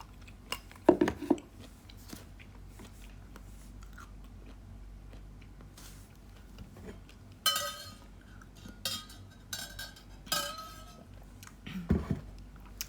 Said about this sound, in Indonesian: Bentar, aku ngunyah dulu.